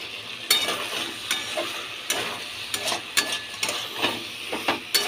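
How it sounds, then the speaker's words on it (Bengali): Food stirred in a hot pan in a home kitchen, a steady frying sizzle and hiss with repeated sharp scrapes and clinks of a spatula against the pan, close and fairly loud, no talking. "আমি এখন রান্না করছি।"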